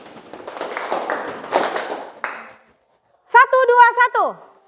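Schoolchildren in a classroom clapping game clap hands and stomp their feet in a dense, fairly close patter for about two seconds, then a teacher speaks.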